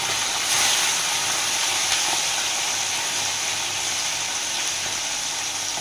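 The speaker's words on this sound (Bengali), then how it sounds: "মাছগুলো ছেড়ে দিচ্ছি, এক পিস করে মাছগুলো সব ছেড়ে দিচ্ছি কড়াইয়ের মধ্যে" Pieces of bata fish sizzle in hot mustard oil in a wok, a loud, continuous frying hiss that holds steady throughout without any talking.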